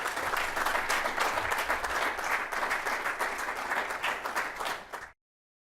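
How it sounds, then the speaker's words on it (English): Audience applause at the close of a lecture at the Library of Congress in Washington DC, a dense, steady wash of many hands clapping for about five seconds, then cutting off abruptly into silence. "Let's give him a applause."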